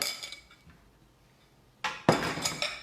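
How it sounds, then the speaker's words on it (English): A lid being fitted onto a small food processor holding mole ingredients, with a faint clink and a short rattle at first, then a louder plastic clatter and scrape as the lid seats, close by. "Lid goes on, our little processor, and we do a good little blend again."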